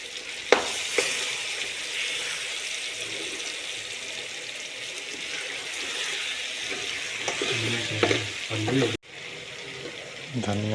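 Garlic ginger paste hits hot oil in a pot of pork curry, giving a steady close sizzle with a few stirring clatters and a brief dropout near the end, no clear speech.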